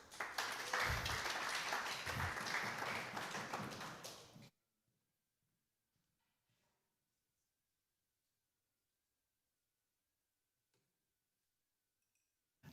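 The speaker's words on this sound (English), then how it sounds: "Everyone give a big round of applause" Applause from a conference audience at a blockchain security talk in Berlin, a dense burst of clapping lasting about four seconds that stops sharply, leaving near silence.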